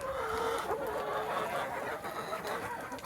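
Chickens in a woodland run cluck softly nearby in a continuous, murmuring chatter while digging and stirring deep bedding, with occasional sharper calls rising above the low background.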